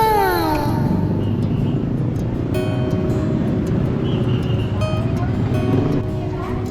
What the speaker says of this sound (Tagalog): ang mga motor at sasakyan ay naglabas-pasok sa mga kalsada